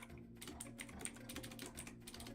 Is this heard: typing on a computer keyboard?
yes